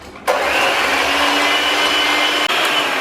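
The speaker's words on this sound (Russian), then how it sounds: "И хорошо взбиваю желтки до такой белой пышной массы." Egg yolks with sugar for a Japanese cotton cheesecake are beaten by an electric mixer, a loud steady whirring drone that starts abruptly and runs continuously with one brief dip near the end.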